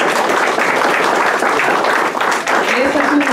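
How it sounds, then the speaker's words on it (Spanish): A crowd applauds at the inauguration of a new office service window, a loud dense burst of clapping that carries on throughout, with a voice speaking over it near the end. "Un gran aplauso."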